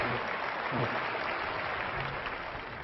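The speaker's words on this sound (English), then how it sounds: "Let's cheer Lucy" A large commencement crowd at the University of Michigan applauds in a dense, steady wash of clapping heard from a distance, fading slightly toward the end, with no voices over it.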